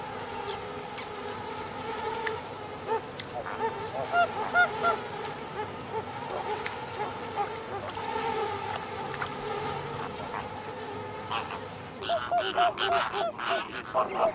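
Caribbean flamingos call at a briny nesting site, their nasal, goose-like honks repeating in scattered bursts over a busy background chatter from the colony, moderately close and steady.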